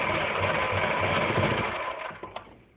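A sewing machine stitches a Naira cut dress in a fast, steady mechanical whir that slows and stops near the end with a couple of clicks.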